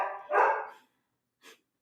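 A dog at a home lets out a loud, close bark followed by a shorter, fainter yip a second later, then silence.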